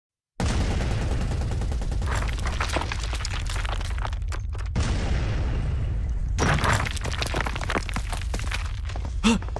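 Explosions and rapid gunfire in an animated alien invasion battle, with bursts of automatic fire, sharp booms and crackling debris coming in dense waves, loud and close, with a brief lull before the barrage resumes.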